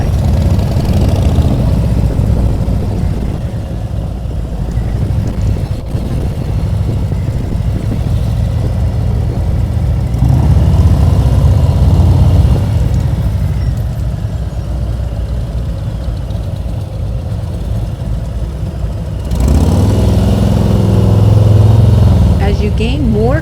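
A motorcycle's engine idles and putters at low speed during slow-speed practice drills, a continuous rumble that swells and eases as the bike turns, with a voice partly audible over it.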